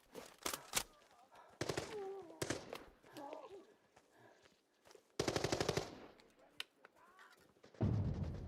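AK-12 gunfire in a video game shooter, several sharp rapid bursts of automatic fire, some loud and close, others fainter, separated by quieter gaps.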